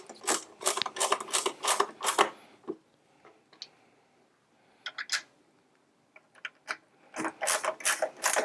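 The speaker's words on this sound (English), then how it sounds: "go ahead and put the rear cover screws back into position" Screws driven into the rear cover of a Sette motor gearbox, heard as close bursts of rapid ratcheting clicks separated by quiet pauses while the driver is repositioned.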